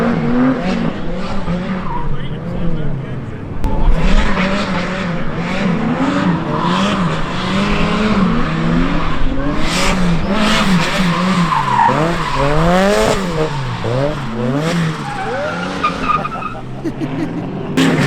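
Budget hatchback drifting on a slippery track, tires squealing in long wavering screeches over a revving engine, loud and close throughout, with people talking in the car at times.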